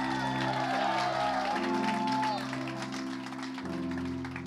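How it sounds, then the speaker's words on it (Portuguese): A church congregation applauds and shouts for joy during a worship service, a steady wash of clapping and cheering with a voice carrying over it. "Você pode dar um aplauso a Ele, um grito de júbilo a Ele?"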